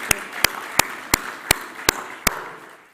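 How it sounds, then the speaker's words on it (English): Applause at an international forum on the crime of genocide: a short run of spaced, even claps, about seven in under three seconds, over a soft wash of room noise that fades out. "Can we give them a round of applause"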